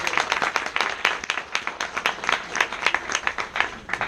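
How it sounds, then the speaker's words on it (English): Audience members at a San Francisco big-data analytics meetup clap for a speaker after his talk on enterprise Jupyter deployment, a lively, uneven burst of individual claps close by, filling the moment without talk. "So can everyone give a round of applause to Fred?"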